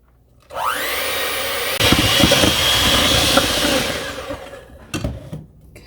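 An electric hand mixer whirs up to speed and then strains as it beats cold cream cheese and cold butter for a cake. The motor drone is loud and close, with clattering beaters, before it winds down and stops with a few knocks.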